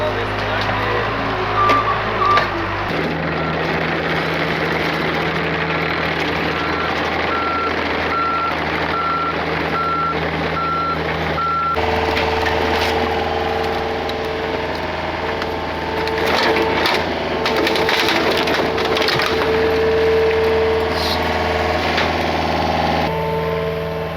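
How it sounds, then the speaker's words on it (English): Skid steer and excavator pushing and loading debris piles while clearing a former homeless camp in a forest, steady diesel engine rumble with repeated reversing beeps, wood cracking and snapping, and people talking. "we got the skid steer pushing up piles right here to the excavator"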